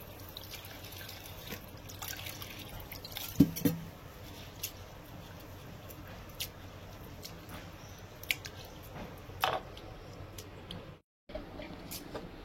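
Lentils being rinsed in water in a home kitchen, with soft sloshing, squishing and dripping throughout, a few louder splashes and handling knocks, close and steady with a brief silent gap near the end.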